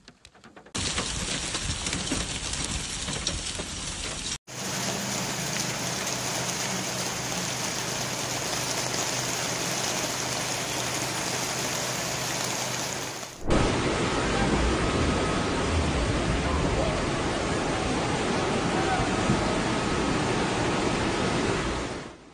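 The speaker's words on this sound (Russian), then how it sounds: "В Турции прошел проливной дождь с градом." Heavy rain with hail pours down in Cizre, Turkey as a dense, steady roaring hiss that runs unbroken for over twenty seconds, loud and close, in several cut segments with no talk.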